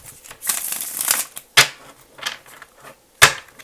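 Tarot cards being shuffled by hand, loosely and unevenly, with bursts of riffling and flapping and a couple of sharp slaps as the deck is knocked together, close and alone.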